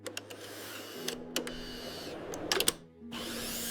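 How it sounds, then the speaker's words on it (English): A ketchup bottle filling and capping machine runs with a steady mechanical whir, broken by sharp pneumatic hisses and clicks at irregular intervals; a low hum shifts in pitch partway through. "Precision nozzles fill 6 bottles at once, with exact portions."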